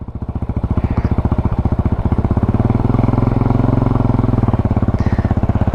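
A Yamaha Raptor 250 quad bike idles and then pulls away in first gear with a little throttle. The single-cylinder engine thumps close by in a fast, steady rhythm and swells slightly as it moves off, with no talk.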